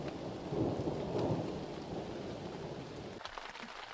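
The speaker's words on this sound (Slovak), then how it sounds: "je to už iba taký mierny daždík" Light rain falls steadily in the wilderness after a hailstorm, a soft, even hiss of drops with a low rumbling undertone throughout and no voices.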